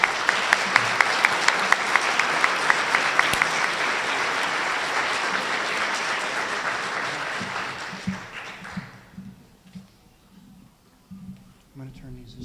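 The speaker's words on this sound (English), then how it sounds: "Let's give them a round of applause." An audience at a district spelling bee applauds loudly and evenly for about eight seconds, then the clapping fades out into scattered room sounds and brief talk.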